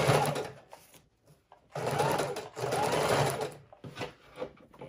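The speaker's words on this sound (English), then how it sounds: "I think for this one, I might go ahead and use a zigzag stitch" A sewing machine stitches a zigzag seam to attach fabric on a file folder book cover, running in three or four loud, steady bursts with short pauses and small clicks between them.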